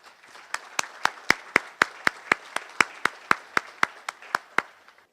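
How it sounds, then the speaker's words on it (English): Audience applause at the Amherst A Better Chance gala comes through as a steady, evenly spaced run of about twenty sharp claps, close and crisp, with no talk over it. "Let's give them a round of applause once again."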